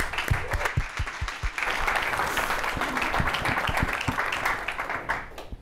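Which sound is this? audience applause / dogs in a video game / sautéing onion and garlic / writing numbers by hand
audience applause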